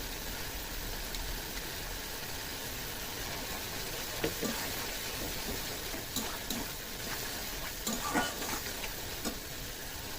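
Steady, loud sizzle of a Bombay duck and potato fish curry frying in a pan as ginger and cumin paste goes in, with a few soft stirring clicks and scrapes over the continuous hiss.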